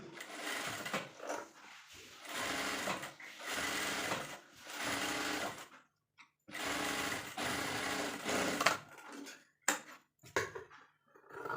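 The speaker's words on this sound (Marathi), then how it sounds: "आता आपल्याला मोठ्याचा भाग शिवून घ्यायचा आहे" Sewing machine stitching blouse fabric in loud, steady bursts of a few seconds each, separated by short pauses, with a few brief clicks at the end.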